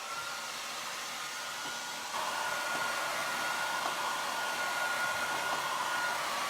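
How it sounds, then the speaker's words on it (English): Handheld hair dryer blowing a steady, continuous rush of air over a painted glass craft project, held close and growing slightly louder partway through, with no talk. "So I'm going to take my hairdryer and give it a quick blast."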